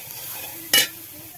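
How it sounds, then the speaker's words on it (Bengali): Grated coconut frying in a pan, a steady soft sizzle with one short, louder scrape of stirring partway through, close and alone without talk. "আর ততক্ষণ আমি নারকেলটা ভেজে নিচ্ছি"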